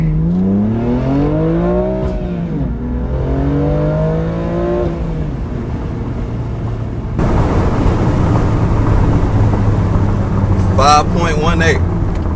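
BMW M2 launching hard during timed acceleration runs: engine revs climb steeply through the gears with distinct shift breaks, then give way to loud wind rush as the car gathers speed, recorded close from inside.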